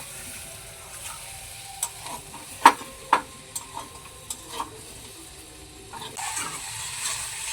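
Fried potatoes are stirred into oily spice paste in a pan, with a soft sizzle beneath a series of distinct scraping and clinking strokes from the spoon, most prominent in the middle, then a rougher stirring burst near the end.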